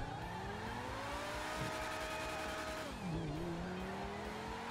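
A Tuatara supercar in GTA 5 accelerating hard, its engine whine climbing steadily in pitch, dropping sharply with a gear change, then rising again, loud and continuous with no talk.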